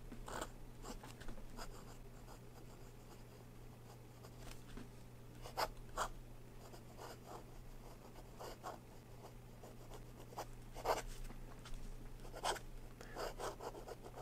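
An Aurora Talentum fountain pen with a gold medium nib scratches across paper in soft, close strokes, an irregular run of faint rasps and taps in a quiet room.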